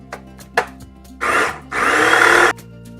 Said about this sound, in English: And then I'm just gonna pulse that to mix the dry ingredients together.